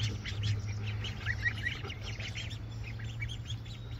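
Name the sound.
ducklings quacking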